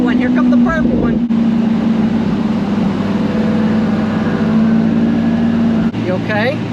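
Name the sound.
purple car driving past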